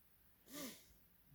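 A pet gives a single short, faint sneeze, alone in an otherwise quiet room.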